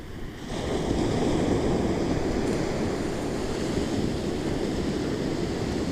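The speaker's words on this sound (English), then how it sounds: "You can hear the ocean gently turning over as the waves roll in" Ocean waves roll in at sunset as a steady, loud wash of surf, continuous and close, with a dense rushing roar and some wind noise and no voices.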